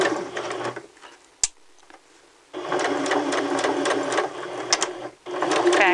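Sewing machine stitching forward with a backstitch while sewing a garment's shoulder seam: a loud, close, steady mechanical whir of rapid needle strokes that stops for a second, restarts, then briefly pauses again.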